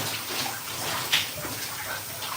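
Steady running water from a tap or shower as someone rinses off, a continuous hiss with one brief splash or clunk partway through.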